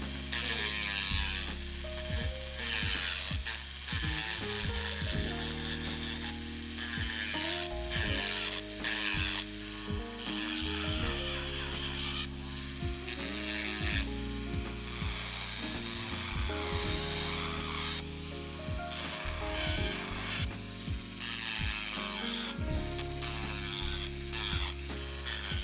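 A power drill fitted with an Amazon drill bit runs at low speed, giving a whirring, ratcheting mechanical grind with repeated tonal surges and stutters that start and stop throughout.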